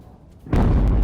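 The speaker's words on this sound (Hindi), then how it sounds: "तेहरान पर अमेरिका और इजराइल ने एक बार फिर से बमबारी की है" A massive blast from bombing of Tehran erupts abruptly after a quiet rumble, becoming a loud, sustained roaring boom.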